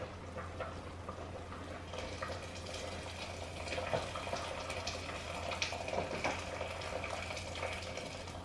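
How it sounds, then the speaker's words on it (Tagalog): Water runs steadily into a cooking pot while preparing Filipino sinigang, a continuous splashing, gurgling stream that grows slightly fuller as the pot fills, heard alone at close range. "Maglagay lang ako ng tubig."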